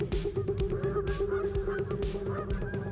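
A flock of Canada geese honking continuously, with many overlapping calls forming a dense, steady chorus close by.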